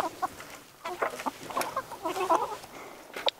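Several hens cluck and chatter in irregular bursts while perched on a backyard chicken composter, their close, busy calls overlapping with soft rustling.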